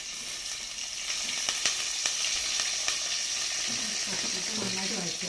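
Ginger, garlic, shallots and green chili sauté in a hot pan, giving a steady bright sizzle with occasional sharp clicks of a spoon stirring against the pan.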